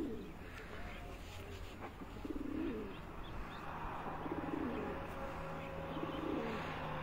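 Pigeons coo on a rooftop in Abbottabad, with soft repeated bubbling coos every couple of seconds, fairly faint against the quiet outdoor background, with occasional light chirps.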